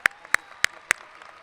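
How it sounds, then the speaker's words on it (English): At a 2018 high school graduation ceremony, four sharp, separate claps ring out at a steady pace and then stop, sounding close and sparse rather than like a full crowd. "that deserves some applause"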